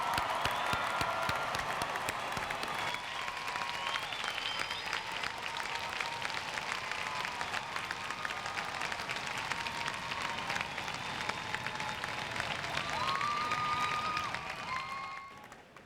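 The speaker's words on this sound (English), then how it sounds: "how about a big round of applause for all our graduates?" A large audience at a University at Albany winter commencement gives the graduates a long round of applause. The clapping is dense and steady with scattered cheers and whistles, and it fades out at the end.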